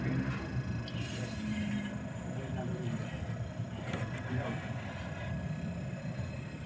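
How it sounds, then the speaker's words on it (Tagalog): A Panasonic refrigerator inverter compressor running on a homemade tester, giving a steady, close, rumbling mechanical hum with a thin whine above it, continuous throughout while a person talks over it. "Maririnig niyo yung tunog ng compressor"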